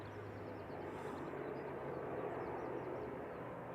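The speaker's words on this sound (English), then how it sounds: "Here are noisy props. I think we've got a prop coming out. Prop loud." Propeller aircraft engine at Manchester Airport, a steady loud drone with a low hum that stays even throughout, with faint chirping higher sounds above it and no talk.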